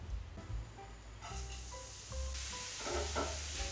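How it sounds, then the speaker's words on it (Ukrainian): A steady, soft sizzle of carrot and garlic frying in oil over low heat, with a few light scrapes and clinks of stirring in the pan. "Тушкую на невеликому вогні."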